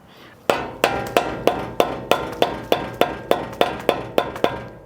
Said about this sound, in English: take a little mallet or hammer it onto the bolt, the rounded one